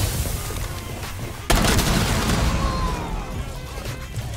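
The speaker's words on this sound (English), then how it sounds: "Sounds like they were thermiting something." A thermite breaching charge in the tactical shooter Rainbow Six Siege ignites with an abrupt loud burst, then settles into a steady, harsh hissing burn that continues to the end.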